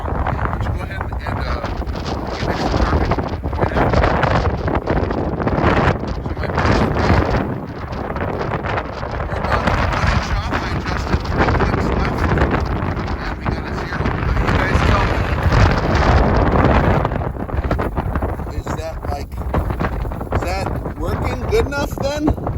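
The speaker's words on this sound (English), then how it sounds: "The wind is too strong." Strong outdoor wind gusts of 17 to 32 mph buffet the microphone on a rooftop, making a loud, continuous roaring rumble with surging peaks. It runs without a break for the whole stretch, and any talk is buried under the noise.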